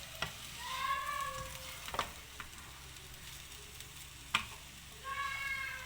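Egg fried rice and vegetables are stir-fried in a pan over medium heat, a continuous close sizzle broken by a few sharp spatula scrapes and knocks against the pan.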